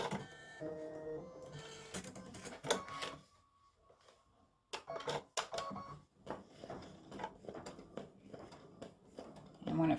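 An embroidery machine stitching a tulip petal on card stock in light pink thread, rapid mechanical whirring and ticking stitches that pause briefly then resume in repeated bursts, close and clear.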